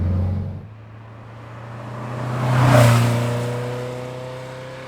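A 1969 Porsche 912 engine while driving, a steady drone that dips, then swells as revs climb to a peak before easing back, heard from inside the car.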